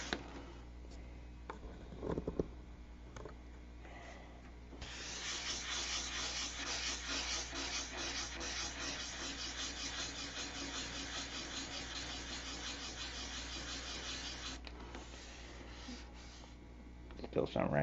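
Hardwood is sanded with a long, steady stretch of dry, scratchy rubbing. Quieter handling noises come before and after it.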